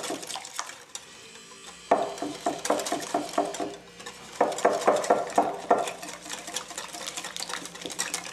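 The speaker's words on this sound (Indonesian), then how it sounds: "kita akan masukkan tepungnya sedikit-sedikit, guys. Sambil terus diaduk." Bread dough for soft pull-apart roti sobek being stirred in a bowl as flour goes in little by little, a steady run of rhythmic clinking, scraping strokes that pause briefly then resume, close and moderately loud.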